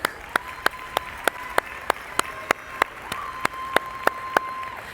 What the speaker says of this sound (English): Let's give our dancers a big round of applause.